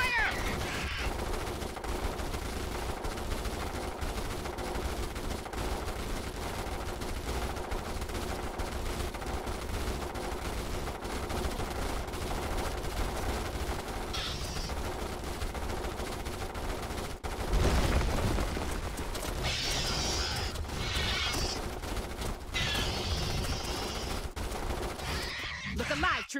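Troopers fire sustained gunfire in the video game Starship Troopers Terran Command, with dense overlapping bursts of shots rattling throughout and voices calling out over the battle noise.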